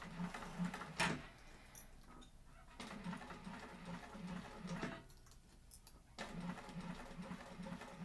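A sewing machine stitches along piping on a Blanche bowler bag, a steady low mechanical whir with a rhythmic needle pulse, faint and close, broken by short pauses and clicks, with no talking.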